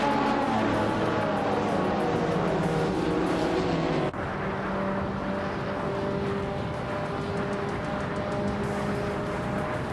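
Retro 1993 Jaguar XJ220 supercar in a video game race, engine roaring steadily at the launch amid other cars, with a sharp gear change partway through and a sustained loud drone.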